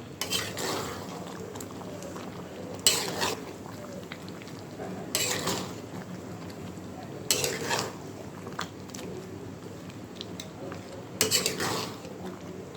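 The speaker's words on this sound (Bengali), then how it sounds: "পাঁচ মিনিট এভাবে নাড়াচাড়া করে আমি আচারটা নামিয়ে রাখবো" Mango pickle with cumin, fenugreek, dried chilies and spice powder is stirred in a pan, producing repeated scraping and clinking of a spoon against metal in distinct strokes, fairly close and moderately quiet.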